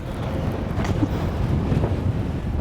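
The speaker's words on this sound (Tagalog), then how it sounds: "yung hangin may dalang mga buha-buhangin" Steady rumbling wind buffets the microphone throughout at a flat, sandy nickel mining site in Rio Tuba, Palawan, a loud broadband roar with gusty swells and no voices.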